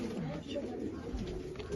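A pigeon crossed from old Allahabad and Rampuri stock coos softly, a low throaty call repeating under faint background noise, with a voice talking nearby.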